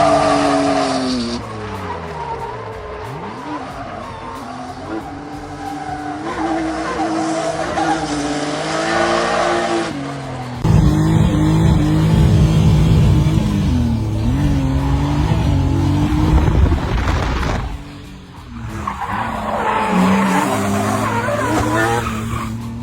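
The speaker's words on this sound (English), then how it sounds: "show you some clips from the last drift event and me breaking a lot of things" A BMW E36 drift car with an angle kit, at a drift event, howls under high revs while its tires squeal in long, loud, continuous slides, with the engine note rising and falling throughout.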